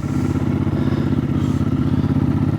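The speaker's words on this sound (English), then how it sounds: "Got a good sound, that V-strom." A Suzuki V-Strom motorcycle engine runs nearby with a loud, steady, pulsing throaty rumble that continues without a break for the whole moment.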